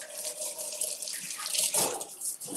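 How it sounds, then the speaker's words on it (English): Hands being washed under a running tap, with a steady splashing stream of water into a sink, close and moderately loud throughout. "let's wash hands."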